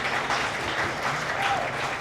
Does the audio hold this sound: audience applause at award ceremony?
yes